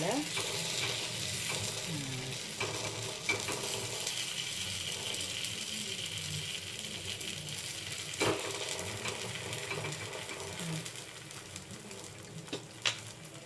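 Cassava idli paniyaram fry in a pan over medium heat with a steady, dense sizzle throughout and occasional faint clinks.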